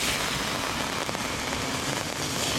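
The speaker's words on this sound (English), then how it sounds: "And yeah, it's raining." Steady rain falls in a dense, even hiss at a collegiate rowing regatta, the 2011 Eastern Sprints lightweight eights heat, with no voices, just continuous close drumming on surfaces.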